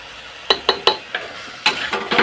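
Spice powders being stirred into frying curry in a pan: a series of sharp scraping strokes of a spoon against the pan over a soft background sizzle, close and fairly loud, with no talking.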